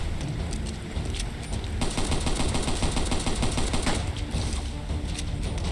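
Rapid, continuous gunfire in the video game Bright Memory, a steady rattling stream of shots that keeps a loud, even intensity throughout, with no pause.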